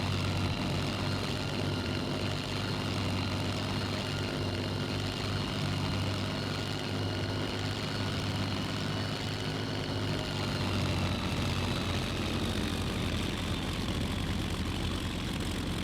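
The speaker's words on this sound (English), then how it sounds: "Maybe let's taxi from the external view." A Bf-109F taxis in the IL-2 Sturmovik flight game, its simulated piston engine holding a loud, steady droning rumble with a faint whining tone throughout, with no one talking.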